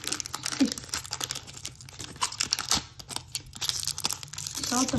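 Foil wrapper of a Pokémon trading card booster pack being torn open and crinkled up close, with papery rips and crackles over about five seconds.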